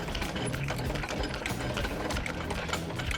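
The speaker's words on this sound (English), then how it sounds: "You grab your wind down bar, which is this, a 19mm socket on the end of it, put it inside, and you wind it out." A caravan stabilizing leg on an MDC Forbes 13 offroad caravan is wound out with a 19mm socket bar, giving a steady close mechanical whirring and grinding throughout.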